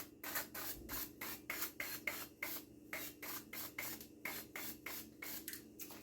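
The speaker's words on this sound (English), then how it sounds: "I am going to spray this just a little bit." Cooking spray hisses onto a casserole dish in a long run of short, quiet bursts with a steady rhythm. Nobody talks.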